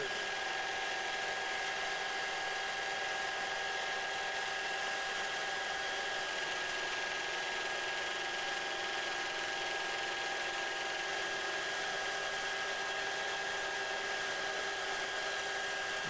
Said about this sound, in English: You can begin to hear the effect the pressure is having on the lathe.